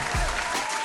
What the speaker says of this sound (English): Let's give him a round of applause for coming on the show for the first time.